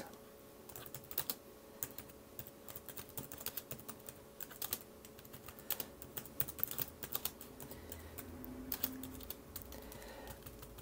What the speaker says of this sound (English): You can type pretty fast on this.